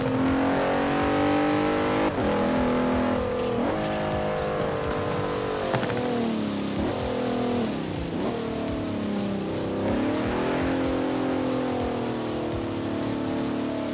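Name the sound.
BMW M2 engine revving in video game Forza Horizon 4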